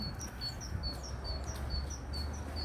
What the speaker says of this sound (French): Il y a des moineaux et des canards.